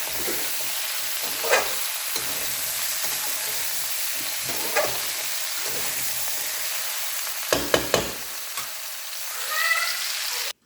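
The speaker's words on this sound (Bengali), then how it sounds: "সব সবজিগুলিকে ভালো করে ভেজে নিচ্ছি" Vegetables for Bengali shukto fry with a continuous crackling sizzle while a spatula scrapes and clatters against the pan in intermittent strokes.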